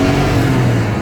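A first-generation Cummins diesel truck pulls hard in second gear, its engine droning loud and close in a short, steady rising roar.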